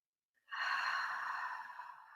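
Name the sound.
deep inhale through the nose and loud exhale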